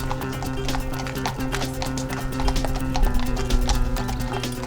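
Republican Guard horses walking in the Bois de Boulogne, hooves clip-clopping in a steady, dense rhythm from several animals, fairly loud over a constant low hum.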